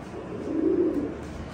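Pigeons cooing in a loft, a soft low throaty coo swelling in the middle, close by with a faint steady background.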